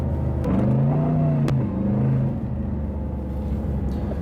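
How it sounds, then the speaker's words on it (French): Mercedes SLR McLaren 722 Edition engine pulling hard under acceleration, a deep rising drone heard from inside the car, loud and continuous with a sharp click partway through, then settling to a steady rumble. "Ah mais le moteur comme il reprend là."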